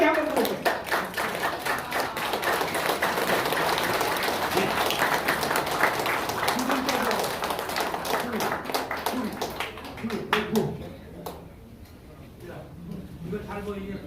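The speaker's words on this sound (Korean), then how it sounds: "큰 박수. 긴 박수를 한번 더 할까요?" A large crowd at a Korean political rally claps loudly and steadily for a long stretch, then the applause thins into scattered claps while a voice talks over it.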